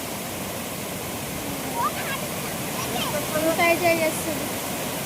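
Waterfall water rushes and crashes steadily at Edupayala Durga Mata, a dense, close, continuous roar with brief voices and a short spoken phrase cutting in near the end.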